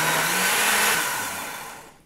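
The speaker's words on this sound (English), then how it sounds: "Now you don't want to overload your blender, especially when blending up the greens" A blender whirs as it purees leafy greens, a loud steady motor whine that fades out over about two seconds with no talking.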